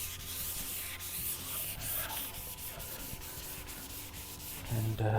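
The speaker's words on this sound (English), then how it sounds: "we sand, the more sanding scratches we put on this panel. I prefer to sand in one direction" Hand sanding of a freshly resprayed car panel, a close, continuous rasping rub of abrasive paper on paint in steady repeated strokes, with no speech.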